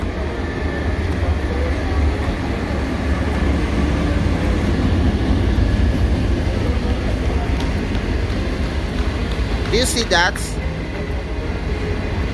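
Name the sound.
train moving on rails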